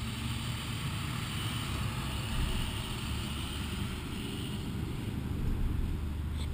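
Low, rumbling vehicle engine noise drones steadily throughout, mixed with some wind, like a large bus idling or passing close by.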